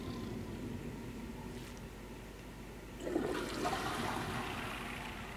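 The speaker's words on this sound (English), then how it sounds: "Can I flush now?" A toilet flushes in the video game Prey, a rushing swirl of water that starts abruptly and keeps draining steadily over a low ambient hum.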